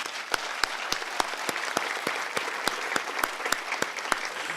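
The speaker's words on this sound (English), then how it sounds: "let's give everyone a round of applause." A crowd applauds steadily, with many hands clapping in a dense patter and a few sharp, prominent claps standing out near by.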